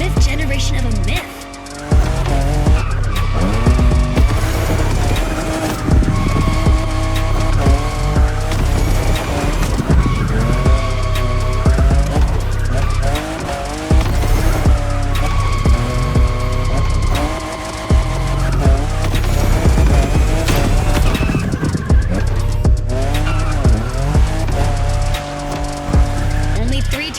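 A new fifth-generation Toyota Supra drifting in the racing game The Crew Motorfest, its engine roaring loud and constant under long, wavering tire squeals that break off briefly now and then, with background music in the mix.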